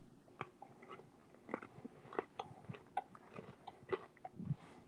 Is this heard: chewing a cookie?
yes